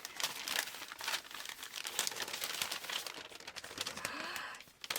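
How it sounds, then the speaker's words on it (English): Wrapping paper crinkles and crumples steadily while an unboxing package is unwrapped, a close, continuous rustle with sharper crackles and no talking. "And there's even more wrapping paper."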